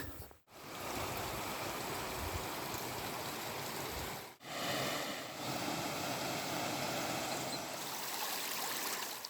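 A river stream flowing steadily beside a hiking trail, a broad continuous rush of water that stays loud and even throughout, with two brief dips.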